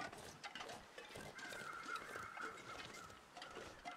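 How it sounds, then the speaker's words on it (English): Crows caw in the distance in the snowy wilderness of the survival video game The Long Dark. The calls are faint and hoarse, come in a few clusters, and sit over a quiet ambient background. "I hear crows"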